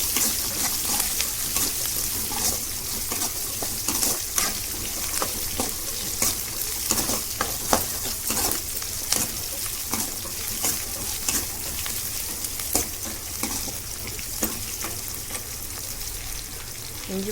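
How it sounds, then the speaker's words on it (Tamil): Ginger and garlic paste sautéing with masala in a pan, a steady close sizzle with frequent sharp scrapes and clicks of stirring throughout, no voices. "இஞ்சி பூண்டு லைட்டாக வதங்கிடுச்சு."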